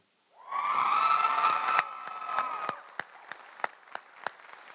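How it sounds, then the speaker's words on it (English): A graduating class applauds at a commencement ceremony: a burst of clapping and cheering swells quickly, holds for about two seconds, then thins into a few scattered, separate claps. "give them a second for all my class to go ahead and clap it up for them"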